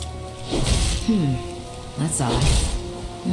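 Steady rain falls in a World of Warcraft game scene, a broadband hiss running throughout beneath character voices that speak over it.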